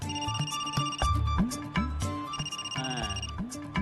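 A phone rings with an incoming call from a mother, its electronic ringtone repeating in a loud, close, regular pattern with no talking.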